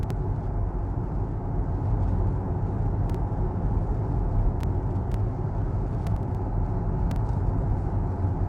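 Hyundai Ioniq 5 electric car driving on a road during an Arctic road trip, a steady low tire and road rumble heard from inside the cabin, with a few faint clicks.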